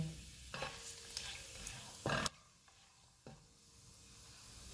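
Whole cumin, black peppercorns, green and black cardamom and cloves fry quietly in oil for fish pulao, a soft sizzle broken by a few brief scraping stirs.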